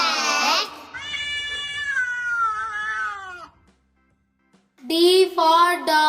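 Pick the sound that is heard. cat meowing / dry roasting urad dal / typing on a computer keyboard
cat meowing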